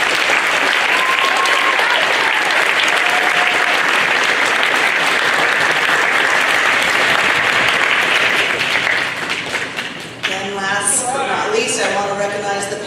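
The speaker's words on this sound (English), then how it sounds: "join me in a round of applause for them" Sustained loud applause from a crowd at a high school awards ceremony, steady for several seconds before thinning out near the end as a few voices and scattered claps remain.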